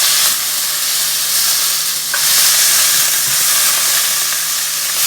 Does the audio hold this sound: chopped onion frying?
yes